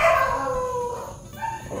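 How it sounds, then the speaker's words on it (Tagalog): Dog on a farm howls and yips loudly nearby, a drawn-out wavering cry that fades and then rises again briefly. "Ang ingay ng aso namin"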